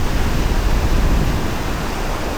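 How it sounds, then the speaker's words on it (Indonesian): Big waves at Watulumbung beach roar as a dense, loud wash of surf with no breaks, close by and heard on their own. "Ombaknya lagi gede di sini"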